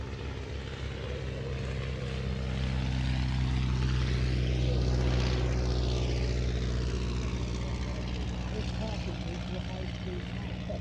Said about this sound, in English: the first, I hope, of our Edwardians, the Avro triplane.